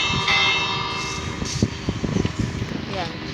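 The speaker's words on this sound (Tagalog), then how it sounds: "Bell." A bell rings near a fountain outdoors, its tones sounding through a busy mix of footsteps, crowd noise and a person talking nearby.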